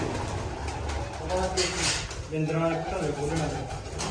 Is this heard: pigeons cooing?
yes